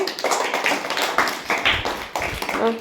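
Children clapping for a student at a school science and environment exhibition in a government primary school, a steady patter of small hands sustained through the whole stretch, close and moderately loud.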